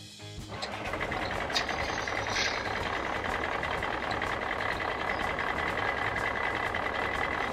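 A toy recycling truck plays its electronic sound effect, a dense steady engine-like rumble with reversing-style beeping that starts abruptly and holds at an even, fairly loud level close to the toy.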